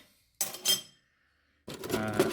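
Metal cutlery and utensils clatter and jingle as hands rummage through a cutlery drawer holding vintage kitchen items, two bursts of close, bright clinking separated by a short pause.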